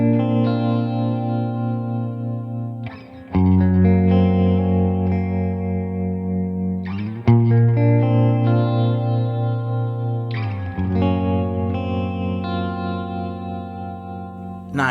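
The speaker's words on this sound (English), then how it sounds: "for this sound I've added some vibrato, reverb, and I think it's a really beautiful sound" Clean electric guitar through a BOSS Katana Gen 3 amp with vibrato and reverb, sustained chords that ring and shimmer with a wavering pitch, struck again every few seconds and left to decay alone.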